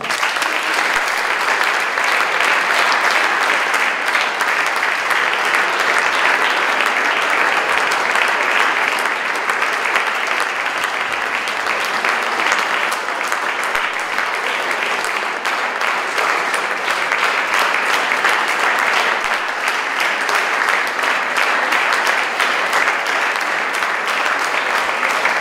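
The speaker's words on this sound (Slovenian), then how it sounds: "Zaploskajmo jim." Audience at a school awards ceremony applauding silver award winners, dense sustained clapping filling the hall at steady loudness for the whole stretch.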